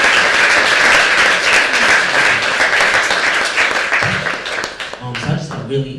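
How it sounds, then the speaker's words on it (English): An audience at a talk bursts into sustained applause, with dense clapping that fills the room for several seconds before thinning out and fading toward the end. "can we just give her a round of applause for setting this up?"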